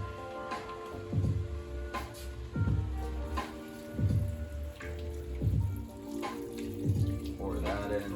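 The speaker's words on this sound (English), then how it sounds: "And then 4 cups of water." Water poured into a pot of Spanish lentil stew with diced carrots, potatoes and rinsed lentils, a steady splashing pour with repeated low sloshes, close and fairly loud, with a voice nearby.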